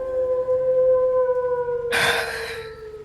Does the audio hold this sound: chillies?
no